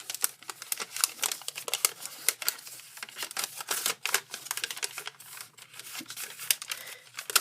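Paper being creased and folded into an origami crane, with quick crisp crinkles and taps in an uneven rhythm, close and clear with almost no talk.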